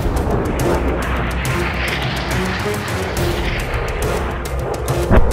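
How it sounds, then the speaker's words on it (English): The battleship USS Massachusetts firing salvos from her 406mm guns alongside Allied cruisers, a dense roar of distant booming gunfire under a sustained rumbling wash, with a sharper crack near the end. "Along with the Allied cruisers, Massachusetts finally fired her first shots from her 406mm guns."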